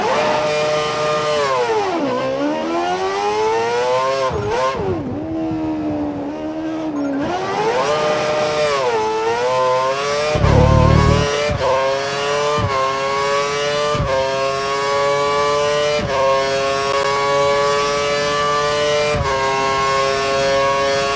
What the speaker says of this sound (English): we need you to accelerate towards the hairpin corner, turn in at the correct point, hit the apex, and accelerate past 185 miles per hour out of the corner